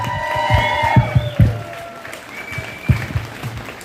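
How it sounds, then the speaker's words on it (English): Applause from an audience at a political gathering in New Jersey, a moderate wash of clapping with a few sharper low thumps, under scattered voices and some sung or music-like tones at the start. "how about a round of applause"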